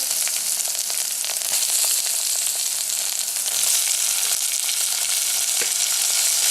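Tomatoes hitting a hot pan for a tomato-mozzarella pizza tart, a steady loud sizzle of frying with faint stirring scrapes and small pops throughout, no talking.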